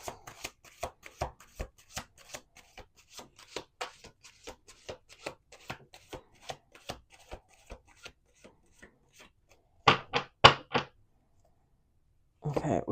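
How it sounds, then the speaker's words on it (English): A deck of tarot cards being shuffled by hand, a quick run of soft riffling slaps and taps that gradually slow and fade, then a few louder card clacks near the end, close and alone. "Last shuffle."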